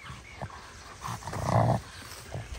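A dog rolling in the grass on a farm lets out low, brief growling grumbles, the strongest a rough snarl in the middle, close but fairly quiet, with no talking.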